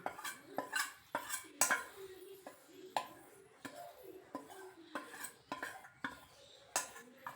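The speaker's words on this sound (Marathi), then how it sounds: "तूप आणि डाळीचं पिठाचं ते आता याच्यात टाकून घेऊया आणि ते सारखं हलवत राहायचं" Gram flour being stirred into ghee in a pan for barfi, heard as repeated scraping and clinking of a spoon against metal in an irregular rhythm, close and fairly quiet, with no talk.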